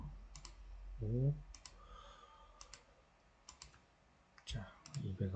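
Clusters of light clicks from a computer keyboard as an amount is typed into an account-transfer program, alternating with short bursts of nearby speech.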